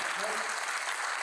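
Enthusiastic applause from the audience at a Hindi poetry recital, a dense steady wash of clapping that fills the short moment without any voice over it.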